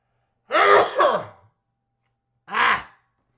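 A man sneezes twice, loud and close, with a long two-part first burst and a shorter second one after about a second of silence.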